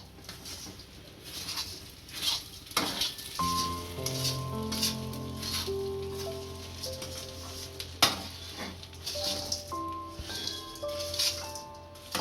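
Grated coconut and raisins being stirred into a gum ladoo mixture of edible gum and jaggery in a pan, with steady scraping, light sizzling and occasional clinks of the spoon, close up, under soft background music.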